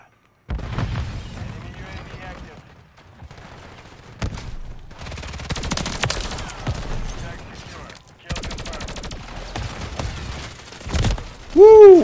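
Gunfire in a shooter video game rattles in repeated bursts and volleys, with a loud impact at the very end; a person talks over the action.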